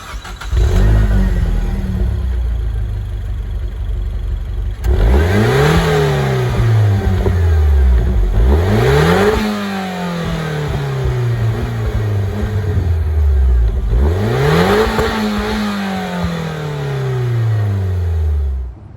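A turbocharged Peugeot 207 RC engine revs hard through repeated acceleration runs, pitch climbing then dropping at each gear change, loud and close, with a brief lull around five seconds.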